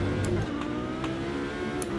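A Lamborghini Huracan Super Trofeo Evo2 race car engine in a racing game, a steady loud droning roar with a brief low rumble at the start and faint clicks over it.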